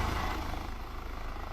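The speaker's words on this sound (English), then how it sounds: "Helicopter behaving abnormally." A helicopter flying out of control in a crash scene gives off a steady, close rotor and engine roar with a rough low rumble. No voices are present over it.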